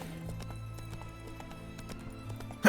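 A horse ridden in The Witcher 3 video game clip-clops along at a steady, even trot, its hooves the clear, close focus with no talk over them.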